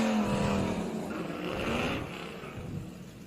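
A Barbecuda drag car powered by a small block Chevy races at a Duct Tape Drags event, its loud engine roaring steadily and fairly close before easing off slightly near the end.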